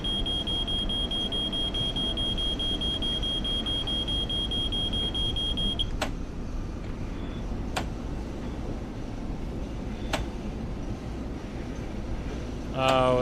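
An emergency alarm sounds inside a Long Island Rail Road train cab in Train Sim World 4, a steady high electronic tone sustained for several seconds before stopping, followed by a few sharp clicks over a low rumble of the running train.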